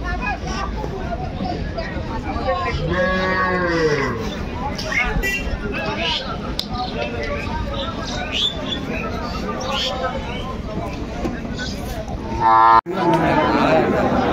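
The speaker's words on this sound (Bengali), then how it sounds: "স্বাগত জানাচ্ছি দিনাজপুর জেলার ঐতিহ্যবাহী রানীগঞ্জ হাট" A busy crowd at the Raniganj cattle haat in Dinajpur, where livestock such as Shahiwal bulls are traded, fills the air with a dense, steady hubbub of many voices, close and loud, broken by one sharp thump near the end.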